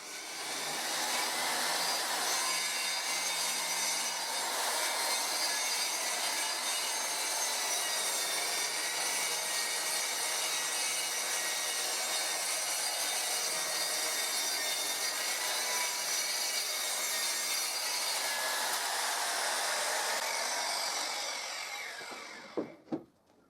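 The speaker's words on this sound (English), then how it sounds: "Now the same I did to cut the 12 centimeters wide strip, I will cut a 30 centimeters wide strip." A circular saw rips a plywood board along a rip fence jig, producing a loud, continuous whining cut that holds steady for about twenty seconds before spinning down, with a couple of sharp knocks at the end.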